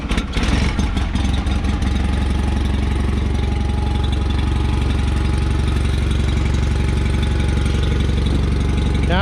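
A John Deere 318 lawn tractor engine runs loud and close, a steady rough idle with a deep throbbing pulse that holds unchanged throughout.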